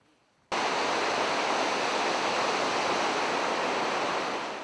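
A fast, powerful river rushes through a mountain valley in the Pamir highlands, a loud, unbroken roar of churning water that cuts in abruptly and holds steady.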